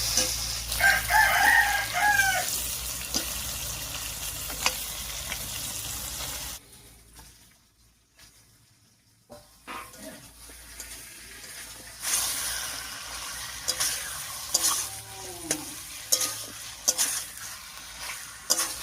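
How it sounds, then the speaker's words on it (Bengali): Chicken hits a pan of oily fried masala for a chicken curry and is stirred, with sizzling and scraping close up, a brief near-silent pause midway, and a rooster crowing in the background early on. "চিকেনটা দিয়ে একটু নাড়িয়ে নিলাম"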